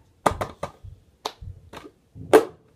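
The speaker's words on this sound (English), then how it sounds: "first you're just going to go clap, clap." Hands clap and tap in a four-handed cup song pattern: a quick run of sharp, dry claps followed by softer thumps and a final louder smack, close and uneven in rhythm, with no speech.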